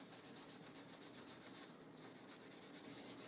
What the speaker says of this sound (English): So I've got some fine wire wool here, a bit of WD-40. And we're just going to give this a scrub down.